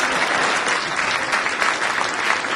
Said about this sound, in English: Please give Mr. Knisley a round of applause